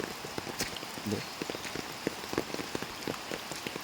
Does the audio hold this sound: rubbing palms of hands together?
no